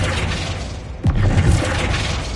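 A Flipendo spell cast in Hogwarts Legacy lands as a single sharp impact with a crashing, shattering edge about a second in, followed by a brief rumbling tail over steady game ambience.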